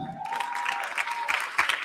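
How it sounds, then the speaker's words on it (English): An audience at a high school graduation ceremony claps together, a steady burst of applause filling the hall without voices. "Give yourself a clap."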